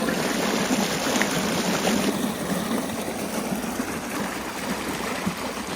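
Irrigation water pours into a wheat field in a continuous rushing, gurgling flow, loud and close, with a faint engine-like hum beneath it that drops away partway through.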